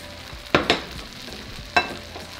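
A breakfast burrito filling mixture cooks in a pan with a low steady sizzle, broken by three sharp clacks of a utensil against the pan, two close together and one a moment later.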